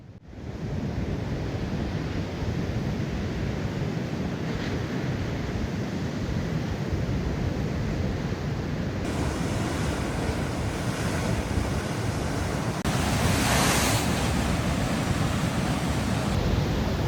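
Ocean waves crash against a rocky shore on California's Central Coast in a constant loud wash of surf, mixed with gusty wind noise on the microphone.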